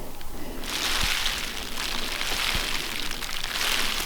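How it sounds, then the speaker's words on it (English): Flea beetles jump on leaves in a high mountain valley vegetable garden, making a steady, close, soft patter that sounds much like light rain. No voices are heard. "That sound like rain, that's all the flea beetles jumping."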